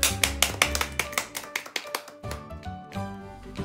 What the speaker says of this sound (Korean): 박수 쳐볼까요?